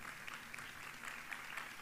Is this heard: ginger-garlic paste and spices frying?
no